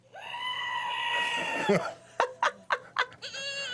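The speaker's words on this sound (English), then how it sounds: "Not just one goat sound, but like 4 of them." A screaming goat toy lets out a long, wailing bleat, then several short, sharp goat-like bleats follow in quick succession, loud and close.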